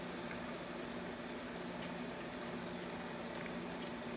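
Boiling water poured from a kettle into canning jars for green beans, a steady faint liquid trickle and gurgle with a low hum running underneath, no voices.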